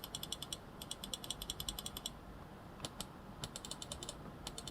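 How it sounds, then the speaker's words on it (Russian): Left and right buttons of a 2E HyperSpeed Lite gaming mouse are pressed in quick, crisp clicks, in bursts of rapid taps separated by short pauses, close and quiet with no talking. "Переходим к кнопкам управления. Для начала послушаем, как звучат левая и правая."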